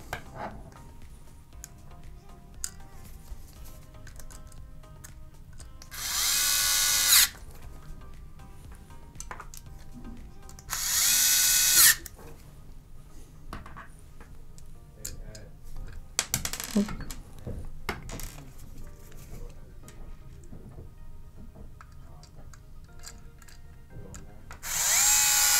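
Screws are driven back into a hard drive caddy during a Microsoft Xbox One S hard drive replacement. Three loud bursts of power-driver whir, each lasting about a second, stand out against a quiet background of small clicks and handling noises.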